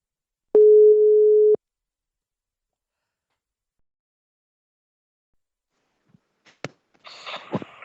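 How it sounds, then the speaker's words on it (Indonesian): A telephone gives one steady, clear call tone lasting about a second as a call is placed, followed by silence and then faint clicks and rustling near the end. "Gue bakal telepon orangnya sekarang."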